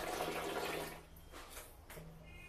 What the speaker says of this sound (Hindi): अभी गर्म पानी यहाँ पे आ रहा है।